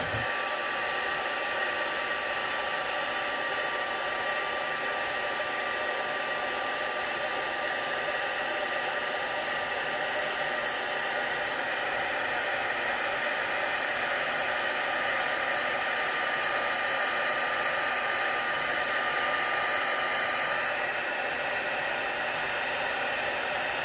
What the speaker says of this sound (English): Then I'm just going to heat emboss this.